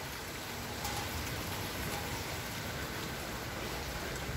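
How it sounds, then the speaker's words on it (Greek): Heavy rain falls during a strong storm in Athens, a steady dense hiss of drops on surfaces, continuous and fairly soft, with no talk heard. "Βρέχει αρκετά."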